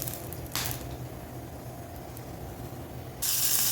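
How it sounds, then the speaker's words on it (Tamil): Ginger and garlic sizzle in hot oil in a pan while Chettinad beef gravy is being cooked, a steady soft hiss that swells louder near the end, with no talking. "இஞ்சி கொஞ்சம் எண்ணெயில் வதங்கட்டும்"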